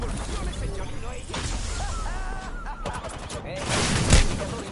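Gunfire in a PS5 shooter video game: bursts of rapid shots and a few sharp blasts crackle amid game effects, with a player speaking over the action.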